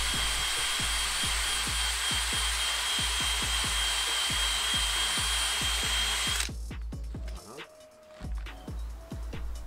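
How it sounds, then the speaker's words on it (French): A small steel wire brush scrubs a rubber tyre during a puncture repair, a loud, steady rasping grind with rapid rhythmic ticks that cuts off abruptly partway through, leaving quieter scraping and handling noises. "Et je vais finir le nettoyage du pneu avec une petite brosse acier pour bien matifier le caoutchouc."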